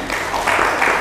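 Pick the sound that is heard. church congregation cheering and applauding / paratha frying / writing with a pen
church congregation cheering and applauding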